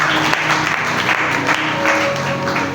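A church congregation applauds and cheers during a worship service, loud continuous clapping mixed with voices calling out and a sustained musical tone underneath, close and dense throughout.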